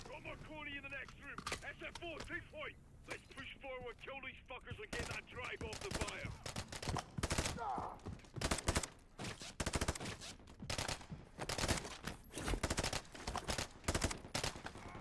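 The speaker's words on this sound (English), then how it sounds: "I'm taking fire." Call of Duty: Modern Warfare III gunfire crackles in rapid bursts and single shots, loud and close, layered with distant battle noise, while players talk over the opening seconds.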